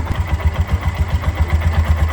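A tuk-tuk engine fitted with a new carburetor runs close and loud, its revs pulsing in a steady rapid throb throughout.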